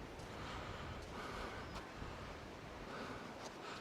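A river at Mount St. Helens rushes steadily as broadband, surf-like water noise, close and continuous with no voices over it.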